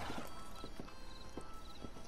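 Horse hooves clip-clopping as the horse dances in Red Dead Redemption 2: quick, irregular hoof taps close by over a steady background bed, with faint music-like tones.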